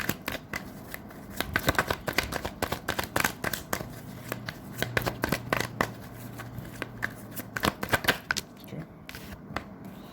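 Tarot cards being shuffled up close, rapid riffling flutters and soft slaps in uneven bursts, with a faint voice in the background.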